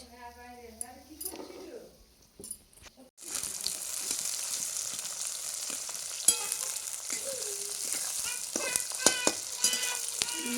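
Whole garam masala, sugar and bay leaf hit hot oil, a sudden loud sizzle that fills the rest of the clip with occasional clinks. A voice speaks briefly beforehand.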